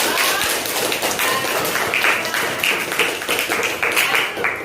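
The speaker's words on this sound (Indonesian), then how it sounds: "Kita beri tepuk tangan untuk kelompok." Classroom students clap for a group that has just presented its discussion, a scattered, uneven patter of hands at close range with some individual claps standing out.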